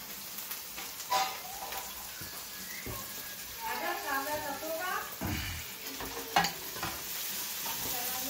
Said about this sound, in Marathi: मिरची फ्राय झालेली आहे तर आपण आता कांदा टाकू.